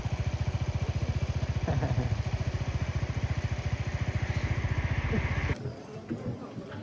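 A motorcycle engine idling near San Jose, Tulay Balimbing: a steady, rapid low chugging pulse holds for over five seconds, then drops away into quieter background noise.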